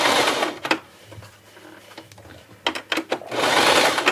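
Sewing machine stitching fabric and back-stitching in reverse, a loud steady whirring buzz that runs in bursts, pauses briefly in the middle, then starts up again strongly.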